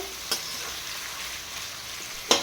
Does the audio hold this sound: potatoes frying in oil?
yes